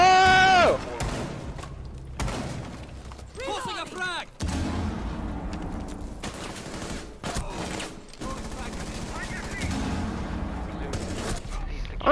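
Gunfire bursts and explosive blasts from Rainbow Six Siege play through a dense, busy mix, with scattered in-game voices and effects breaking in between the shots.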